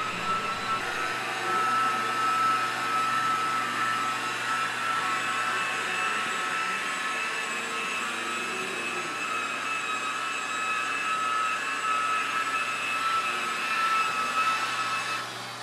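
A power polisher runs continuously on an acrylic cylinder aquarium, giving a loud, steady mechanical whir with a constant tonal hum held for the whole stretch, no voices over it.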